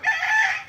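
A native free-range rooster on a small farm crows once, a loud, close, sustained call lasting under a second with no other sound.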